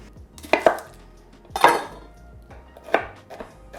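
A knife mincing food on a cutting board for a can of white beans, three sharp separate chopping thuds spaced about a second apart, close and clear with no talk.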